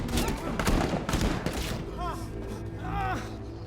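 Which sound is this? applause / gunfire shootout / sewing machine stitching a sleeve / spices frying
gunfire shootout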